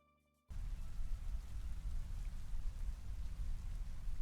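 Rain in a video game pours in suddenly after a moment of near silence, then hisses and patters as a dense, loud, unbroken wash of drops to the end.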